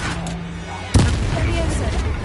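Spell combat in Hogwarts Legacy, with a sharp magical blast landing near the one-second mark over a busy rumbling background, and voices calling out during the fight.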